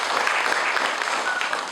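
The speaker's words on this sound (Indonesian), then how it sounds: "Kita beri tepuk tangan dulu." A church congregation claps for jubilarians during a celebration, a brief steady burst of dense applause filling the space at moderate loudness.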